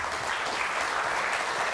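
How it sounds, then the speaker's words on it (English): Steady applause from an audience at a live-streamed conference on digital transformation for the Indonesian economy, dense and continuous throughout, with no voices over it. "big applause to the speakers"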